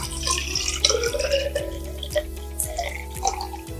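Broth being poured into a conical flask in a microbiology lab for isolating soil microbes gives a close, steady trickle and gurgle of liquid, with a faint rhythmic hum underneath and no voices.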